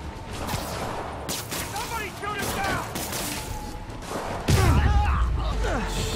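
Bursts of gunfire and heavy thuds ring out in a Spider-Man PS4 fight, with frantic voices shouting over the shots and a loud impact boom near the end.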